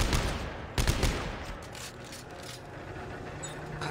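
Gunfire in the sci-fi horror game Dead Space 3, a few sharp bursts of shots clustered early, then fading into softer mechanical clicks and a low background rumble.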